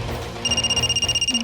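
A telephone rings with a bright electronic double tone, repeating in quick steady pulses, fairly close, inside a home during a tense family scene; no one speaks over it.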